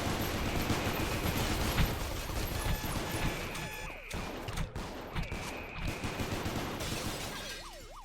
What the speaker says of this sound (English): There's got to be some of the most bullets I've ever seen fired in one spot